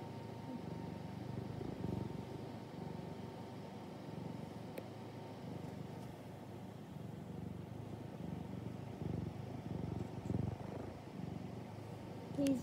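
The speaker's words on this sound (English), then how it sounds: "I have a little kitty." A small cat purrs close to the microphone, a continuous low rhythmic rumble that runs steadily throughout, soft and uninterrupted, with no voices.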